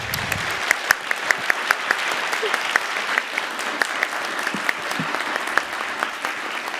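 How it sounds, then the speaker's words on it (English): Audience applause during an open-mic session at a learning conference: a steady, moderately loud patter of many hands, with a few sharper claps standing out near the front. "now we go to the official applause meter."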